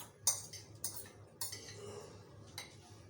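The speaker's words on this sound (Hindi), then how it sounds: "अच्छी तरह से मिक्स कर लें।" A spoon mixes a vegetable omelette batter of onion and green chili in a bowl, making several distinct clinks and scrapes against the bowl at irregular intervals, close and fairly quiet, with no talking.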